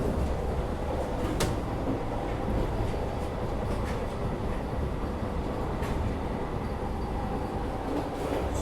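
The Sangamitra Express passes close by, a continuous loud rumble of rolling wheels and rattling carriages with faint clicks, steady throughout with no speech.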